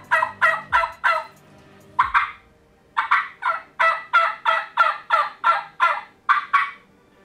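A mouth call imitates a wild turkey's yelps, sounding a rapid series of high-pitched, raspy notes in bursts, close and loud with brief pauses and no talking.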